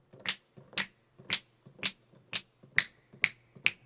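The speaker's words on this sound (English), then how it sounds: "There's also a finger snaps" Finger snaps from the ProjectSam Swing sample library: eight crisp, evenly spaced snaps, close and dry, heard alone at a steady tempo.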